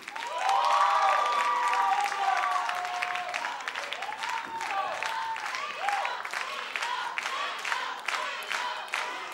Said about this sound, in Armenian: բարձր ծափարենք մեր աղջիկներին